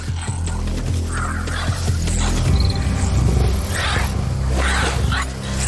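Three lions growl and snarl while attacking a mother honey badger, a close, continuous rumbling roar with rough bursts of scuffling, heard alone without talk.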